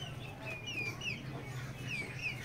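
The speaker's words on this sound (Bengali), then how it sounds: "দেখতে পাচ্ছেন রানিং ডিম দেওয়া টাইগার মুরগি" Laying Tiger hens cluck faintly in a few soft, short calls over a low steady hum, with no one talking.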